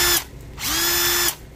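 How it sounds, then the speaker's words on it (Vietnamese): A Bosch two-speed brushed cordless drill/driver whines loud and close in two bursts, a short spin, a pause, then a longer run that rises to a steady pitch before cutting off. "Cái máy khoan này, máy khoan hai chức năng gồm chức năng khoan bình thường và chức năng bắt vít."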